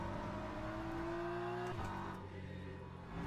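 A BMW M4 GT3 race car in Le Mans Ultimate roars flat out through a left-hand corner at Interlagos, a loud, sustained engine note that climbs steadily before a brief dip and carries on, with no talk over it.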